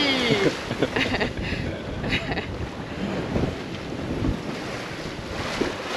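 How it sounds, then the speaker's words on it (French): Ocean swell and breaking waves rush around a sailboat at sea, a constant loud wash of water mixed with heavy wind buffeting against the microphone. "Elle est pas mal celle-là, ouais, une belle houle."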